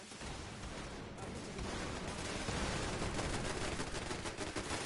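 Dense, continuous rapid gunfire from rows of turrets in the video game Fallout 76, loud and unbroken, intensifying slightly halfway through.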